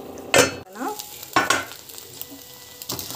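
Upma being stirred and sautéed in a pan: two loud scraping, sizzling bursts of a spoon working through the mix, with a soft sizzle continuing between them and no talk.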